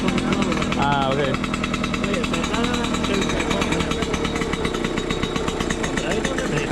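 A Yamaha DT125 R two-stroke motorcycle idles while warming up, a loud rapid buzzing engine note running steadily throughout, with people talking briefly over it.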